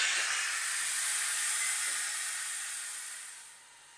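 Pressure cooker hissing steam while cooking giant beans, a loud continuous high hiss that holds steady for a few seconds, then drops off sharply near the end.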